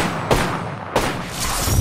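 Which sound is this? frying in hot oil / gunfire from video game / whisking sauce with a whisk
gunfire from video game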